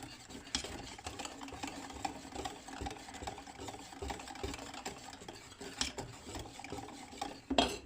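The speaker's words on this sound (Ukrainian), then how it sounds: "Розмішали знов." Steady scraping and swishing of a utensil stirring thick cream with hot milk in a small pot, close by and continuous, with a few brief clinks near the end.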